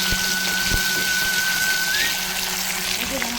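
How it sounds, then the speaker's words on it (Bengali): Chopped tomatoes fry in oil with salt in a pan for a spicy lote fish curry, giving a steady, close sizzling hiss that runs unbroken throughout, with no talk. "এবার টমেটো কুচিটাকে ভালো করে তেলের সঙ্গে ভেজে নেবো"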